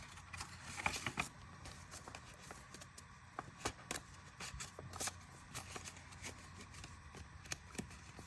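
Paper banknotes are handled while stuffing cash envelopes, with soft continuous rustling and flicking, frequent crisp riffles and taps, close and quiet, no talking.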